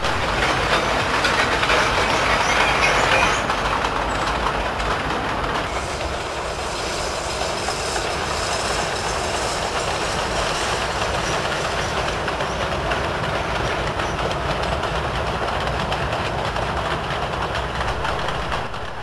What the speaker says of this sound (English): It's a new loco, one that formerly worked on the railway at Pengzhou.